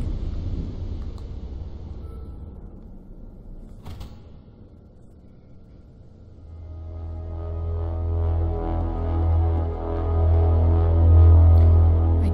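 A rumbling elevator in the video game Hyper Light Drifter, starting quiet with a faint hum and a sharp click, then swelling into a deep, loud mechanical drone that grows stronger toward the end.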